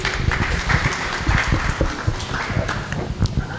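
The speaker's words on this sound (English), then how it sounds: "So allow me with a round of applause to welcome our beautiful and amazing panelists." An audience at an Art Basel panel event claps to welcome the panelists, a dense, steady patter of many hands that holds at an even level for the whole stretch.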